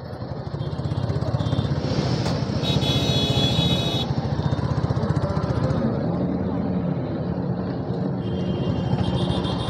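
Several motorbikes rumble in at an Independence Day ride gathering, their loud, steady engines pulsing close by and filling the scene, with a brief higher whine partway through.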